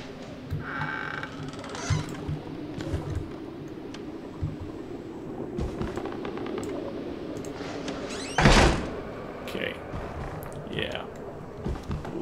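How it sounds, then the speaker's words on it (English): A heavy door slams in the horror game Outlast, a loud booming thud standing out near the end of a stretch of dark ambient rumble and scattered smaller knocks, with no talk over it. "Let's make noise, slamming doors behind us."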